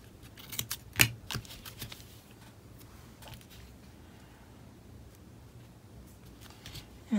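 Scissors snipping paper for a junk journal made from a repurposed planner, with a sharp close snip near the start, a few softer cuts after, then quiet handling noise.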